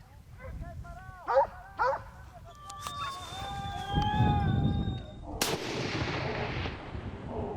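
Rifle shot during a wild boar hunt (montería), a loud sharp blast cutting through barking hunting dogs and voices outdoors, followed by a noisy decaying tail.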